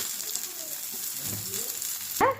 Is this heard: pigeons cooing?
no